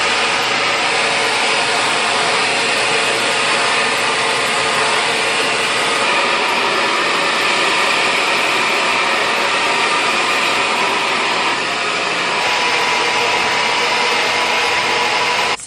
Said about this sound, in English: I'm just going to smooth out my hair with my GHD blow dryer